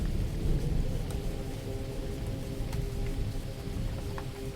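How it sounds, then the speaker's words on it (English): Distant thunder rolling across hills beneath steady rainfall, a low continuous rumble with a soft wash of rain that holds an even, unbroken level throughout. "Thunder murmurs far across the hills."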